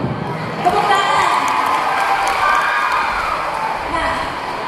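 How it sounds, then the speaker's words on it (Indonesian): Children in a crowded indoor talk cheer and shout, with applause mixed into a steady, dense wall of young voices that holds at an even level throughout. "Tepuk tangan."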